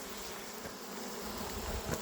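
Honey bees buzz around a beehive as a beekeeper works with a smoker, making a steady, dense swarm drone that stays close and even with no talking.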